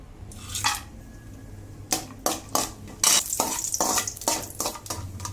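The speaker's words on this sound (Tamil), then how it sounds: "ஸ்லோவாக வச்சு தான் அந்த முந்திரி ஏலக்காயெல்லாம் வறுக்கணும்" Cashews and cardamom roasting in ghee in a kadai, with repeated scraping and stirring strokes over a soft, steady sizzle, close and moderately loud.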